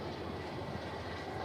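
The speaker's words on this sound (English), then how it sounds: "Tangmere pulling the train on a very wet October 4th" Steam locomotive Tangmere, number 34067, hauls the Border City train on a very wet October 4th, giving a steady, unbroken broadband rumble that stays close and even throughout with no voices.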